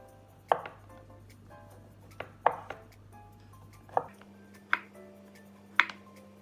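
A sharp Stand Cookware kitchen knife chops food on a board, five distinct, evenly spaced cuts ringing out close and clear against a low steady hum, with no talking.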